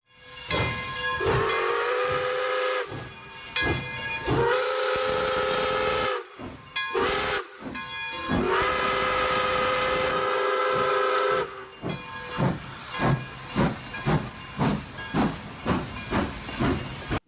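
A steam train whistle sounds in long and short blasts with hissing steam, the drawn-out tones separated by brief gaps, followed by a rapid series of short chuffing bursts.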